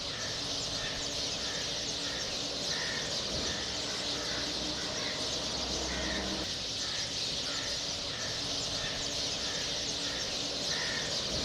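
A large flock of house sparrows in Guwahati, India, chirping in steady repeated bursts over a constant hissing outdoor background, moderately distant and continuous.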